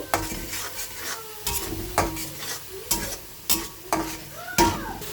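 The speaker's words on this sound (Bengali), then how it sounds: "এবার সব কটা মশলা আমি এবার ভালো করে কষিয়ে নিচ্ছি বেশ অনেকক্ষণই কষাবো" Spices with turmeric are stir-fried for a fish curry, a spatula scraping the pan in steady strokes about every half second over a continuous close sizzle, with no talking.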